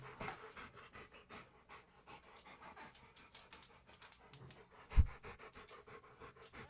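A Rottweiler pants heavily in quick, steady rhythmic breaths, close to the microphone, with one sharp thump partway through.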